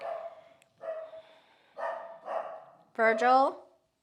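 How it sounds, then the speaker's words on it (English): A pet dog barks indoors in a series of short, separated barks, the last one loudest and close by, while someone talks during a gentle yoga session. "my dog's barking."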